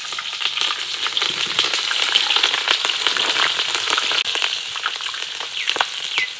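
Green chilies fry in hot oil with panch phoron, giving a loud, dense, continuous sizzle with crackling pops throughout.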